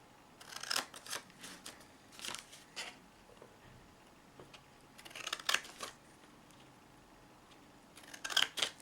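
Scissors snipping along scored lines in a piece of card, several short quiet cuts arriving in small clusters with pauses between, close up.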